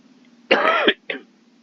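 One person clears their throat in a harsh half-second rasp, then gives a short cough, close and alone over faint background hum.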